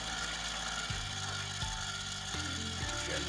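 A hand chamfer tool turning inside the mouth of a brass cartridge case, giving a close, steady run of fine ratcheting clicks and scraping with a few sharper catches, and no voices.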